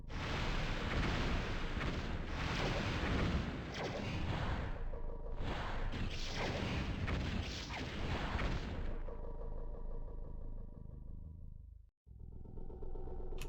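Sustained gunfire and explosions from the Starship Troopers Battlespace video game: a dense, loud barrage of blasts and rumbling booms for about nine seconds, then a quieter humming tail with a brief dropout.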